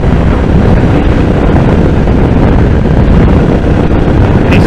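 Strong wind roars steadily across the microphone during a ride on a Royal Enfield Classic 350 motorcycle, a loud, continuous buffeting rush that masks everything else.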